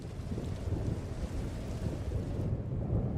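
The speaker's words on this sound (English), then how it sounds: "we upgraded the rain to a thunderstorm." A video-game thunderstorm rumbles as a continuous low roar of thunder mixed with rain and wind, loud and unbroken, with no voices.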